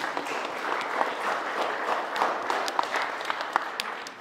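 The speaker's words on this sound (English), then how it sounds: "Yeah, we can clap." Wedding guests clap inside a church, a steady crowd of hands sustained at an even level with scattered louder claps from people close by.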